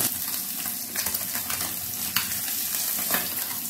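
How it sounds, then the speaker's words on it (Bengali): Kajoli fish fried in oil and gently turned over, a steady close sizzle with soft scraping and sputtering bursts as the pieces are flipped. "একইভাবে এই মাছগুলোকেও হালকা হাতে উল্টে পাল্টে বেশ লাল লাল করে ভেজে নেব।"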